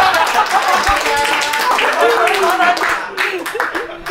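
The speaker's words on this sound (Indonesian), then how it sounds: "Yuk boleh minta tepuk tangan dulu teman-teman." Audience applause at a stand-up comedy show, loud steady clapping from the crowd with someone talking over it and a few laughs.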